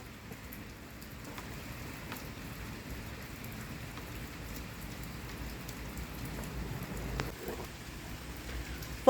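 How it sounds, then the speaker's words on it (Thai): Steady rain falls outdoors as a soft, continuous hiss of drops on surfaces, fairly faint and unbroken, with a brief louder knock at the very end. "ตั้งแต่เมื่อคืน ตอนเช้าก็ยังตกไม่หยุด ลงไปฝนตกเห็นไหมว่าฝนตก"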